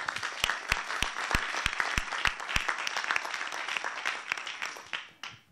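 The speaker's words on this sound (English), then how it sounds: "join me in a very warm applause." Audience applause in an auditorium at an anti-corruption and integrity forum, a warm spread of many hands clapping with a few sharp, distinct claps standing out, then tapering off at the end.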